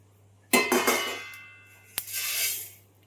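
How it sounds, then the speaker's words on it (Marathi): A metal spatula scrapes and clinks across a hot iron griddle while dry masala spices are tossed on it, giving two distinct scraping strokes that ring and fade, close and fairly loud against a quiet low hum, with no speech. "गरम तव्यावरच असं जरा परतून घेते व्यवस्थित"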